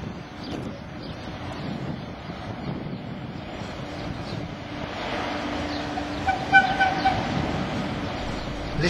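A freight train, one of a fleet of locomotives bought for hauling mineral ore, rumbles past at an ONCF station near Marrakech in Morocco, a steady low roar with wind buffeting the microphone and a slight swell near the end.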